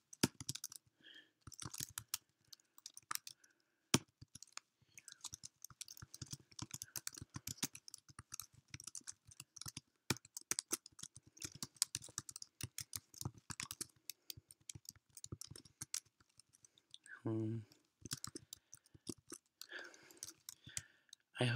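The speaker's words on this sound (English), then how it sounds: "I hope you are enjoying my typing." Close, steady typing on a computer keyboard, with irregular bursts of crisp key clicks and brief pauses, continuing for a long stretch.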